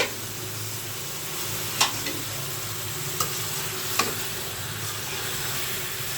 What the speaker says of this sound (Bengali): এবার আমি লাউটা দিয়ে দিলাম।